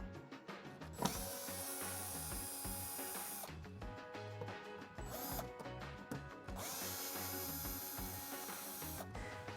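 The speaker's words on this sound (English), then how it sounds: "we need to remove the screws off the front of the controller to access that" Power screwdriver backing screws out of the front of a Vortex spa controller, a steady whirring motor with brief pauses between screws, close and continuous.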